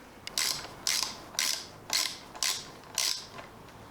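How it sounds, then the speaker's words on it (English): A 3mm Allen key turns a motorcycle speedo cable fitting in a ratcheting rhythm of about seven crisp clicking creaks, evenly spaced and close, with no talk. "to get the speedo cable out, you just need a 3mm Allen key, like so."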